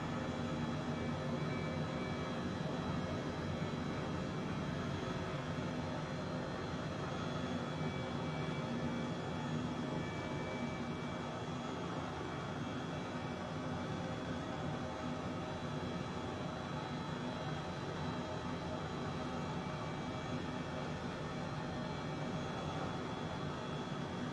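Turbine engine of an H135 helicopter in Microsoft Flight Simulator spools up under added throttle, a steady dense whine and roar holding loud and even throughout with no talking.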